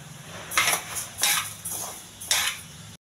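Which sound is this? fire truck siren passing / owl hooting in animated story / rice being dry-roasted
rice being dry-roasted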